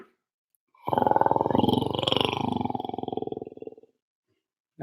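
A voices a lion imitation, a single long rasping guttural roar with a pulsing growl texture, swelling and then fading out over a few seconds with silence before and after.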